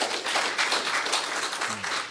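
An audience applauds at a community dialogue event, dense steady clapping from many hands throughout.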